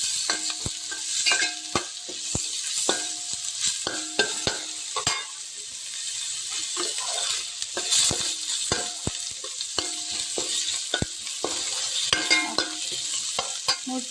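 Green chili and crushed garlic frying in hot oil for a Kerala-style dish, a steady close sizzle with repeated clicks and scrapes of a spoon stirring the pan, no voices.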